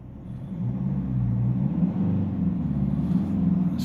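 Mercedes E-Class diesel engine settling back to idle, a steady low rumbling drone that holds even and close throughout.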